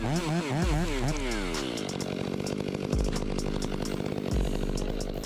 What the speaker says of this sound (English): The West Coast chainsaw completed the job in just a few minutes.